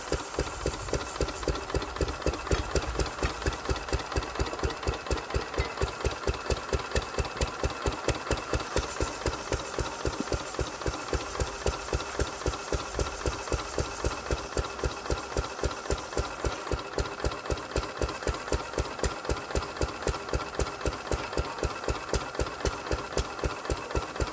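A 1931 engine runs steadily after its first start in decades, a dense, even stream of rapid firing pulses with a knocking, rattling mechanical beat, loud and close throughout with no talking.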